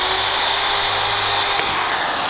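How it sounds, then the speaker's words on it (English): A Buildskill BED1100 heavy-duty electric drill bores into a PVC bar with a continuous loud, high whine that holds steady throughout, close up and with no speech over it. "on PVC bar it is working very nice, and it is penetrating the PVC bar without any effort"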